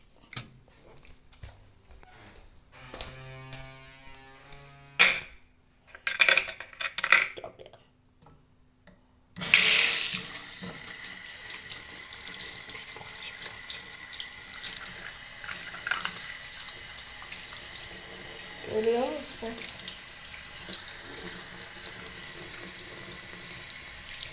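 Tap water runs into a sink during washing, a steady close splashing stream that starts abruptly partway through after some brief clattering and handling noises, with no talk.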